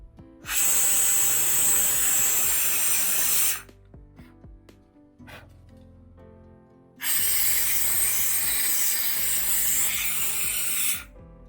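A Fakir steam cleaner blasts two long, loud bursts of hissing steam, each about three seconds, separated by a quieter pause filled with small mechanical clicks and ticks from the machine.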